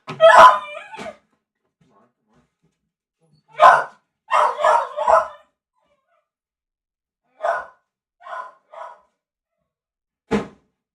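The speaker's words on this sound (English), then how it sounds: "my dog's barking a lot" A dog barking indoors in short bursts: a single bark, then a quick string of three or four, a few more spaced barks and one last sharp bark, loud and close against otherwise quiet gaps.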